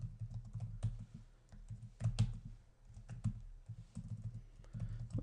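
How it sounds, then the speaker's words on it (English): Quick typing on a computer keyboard while entering network switch configuration commands, light close key clicks in irregular bursts with a brief louder pause-and-resume pattern. "And I'll just type it in real quick."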